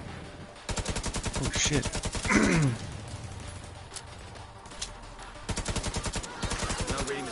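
Video game gunfire from an LMG with incendiary rounds and an SMG with explosive rounds: rapid automatic bursts with pauses, an explosive crash in the middle and sharp single reports, under brief exclamations from a player.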